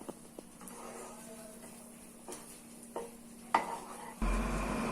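Mysore pak mixture sizzles and bubbles in ghee in a nonstick pan, a soft continuous frying hiss broken by a few clicks and scrapes of stirring.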